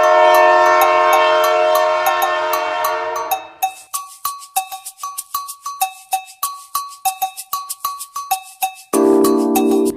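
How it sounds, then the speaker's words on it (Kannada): A train arriving at a railway platform: a loud sustained horn blast, then a long run of rhythmic clacking wheel beats with tonal ringing, ending in another loud horn. "ಅಗೋ ಬಂತು ರೈಲು."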